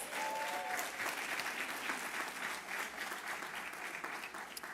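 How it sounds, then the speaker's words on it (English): An audience applauds members of the Schomburg at the Schomburg Centennial kickoff evening program, a dense, steady wash of clapping that holds level for the whole stretch with a brief tonal sound near the start. "Let's give them a round of applause."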